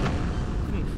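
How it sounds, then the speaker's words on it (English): A loud explosion in the motorcycle combat game Road Redemption, a dense, sustained rumbling boom filling the whole second, heavy in the low end with a slight burst at the start. "The explosion, even the sound effects are so damn impressive in this game"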